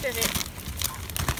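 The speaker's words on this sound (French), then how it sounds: "Et puis qu'on replie la bâche verte proprement pour qu'on puisse le On rendre." A green plastic tarp being folded, with close crinkling and rustling crumples over the short stretch while people talk nearby.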